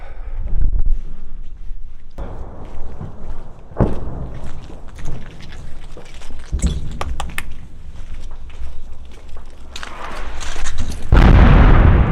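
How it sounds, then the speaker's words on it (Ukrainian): Several heavy booms and blasts of artillery fire in Bakhmut, Ukraine, some distant and some closer, rumble through a noisy outdoor scene over about twelve seconds. "артилерійських ударів"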